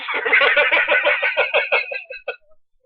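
A bird squawks and clucks in a rapid, loud, rhythmic series of calls that trail off into a few scattered notes before stopping, close and alone.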